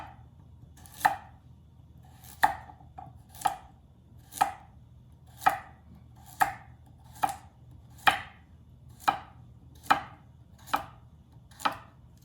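A knife chops carrots on a cutting board in a steady series of about fourteen crisp, evenly spaced knocks, clear and close with no talking.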